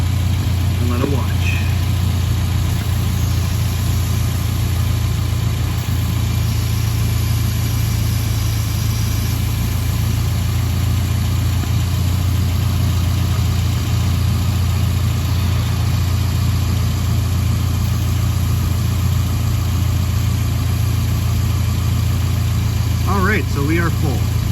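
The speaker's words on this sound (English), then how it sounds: "you didn't hear me over the engine running" A steady, low car engine rumble idles continuously during a DIY A/C refrigerant refill, with a brief voice fragment near the start and another at the end.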